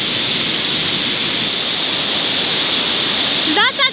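A swollen river rushes in a steady, loud roar of water, close and unbroken throughout, near a rural village path in the evening. It is mostly heard alone, with a brief faint voice near the end.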